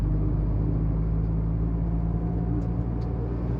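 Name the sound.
Tata Altroz Racer accelerating, sporty dual exhaust sound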